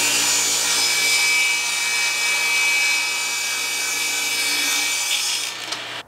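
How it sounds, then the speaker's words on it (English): A saw cuts steadily through milled lumber support braces for a Chevy tailgate bench, a loud continuous rasping drone close up that runs for several seconds before stopping. "I'm gonna cut these support braces down to about 3 inches"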